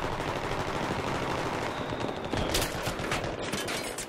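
Sustained enemy gunfire in the video game Battlefield 3, a loud, dense stream of rapid automatic shots and bursts that continues with no let-up for the whole stretch.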